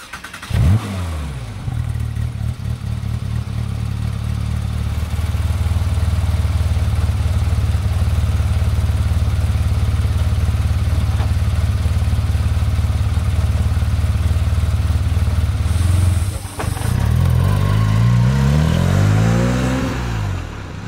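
A black 2016 Porsche 911 R with only 2,790 km on it drives past, its engine holding a loud, steady drone that swells as it revs, then climbs again near the end, with no talk over it.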